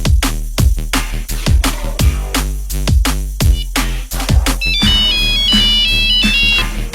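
A loud, close mobile phone ringtone plays as a call is placed to a husband. Punchy repeating electronic beats come first, then a bright, high-pitched chiming melody takes over, with no voices.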